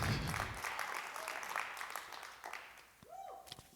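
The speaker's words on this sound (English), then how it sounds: "Clap your hands and shout." A church congregation claps and shouts in a burst of applause and cheering that fades over a few seconds, followed by a brief rising tone near the end.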